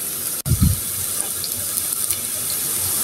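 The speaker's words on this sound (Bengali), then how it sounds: "নিচের পাটটি একটু ভালো করে ভেজে নিয়ে তারপরে ধীরে ধীরে" Puffed rice fritters fry in hot oil in a pan, a steady close sizzling hiss that carries on throughout, with a brief low knock near the start.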